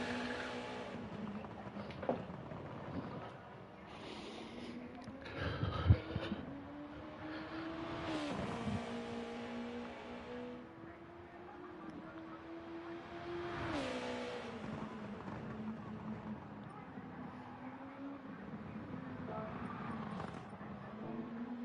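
Sim racing GT2 cars idle and rev on the grid at race start, a low steady engine drone with rising and falling pitch sweeps and occasional louder revs, fairly faint throughout.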